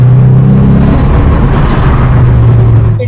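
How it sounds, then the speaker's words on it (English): A car engine revs loud and close through slow, drawn-out gear changes on a slightly downhill road, with the engine note held steady and sustained throughout and no talking. "you get some nice engine notes for longer than you otherwise would because it takes so long to change gears"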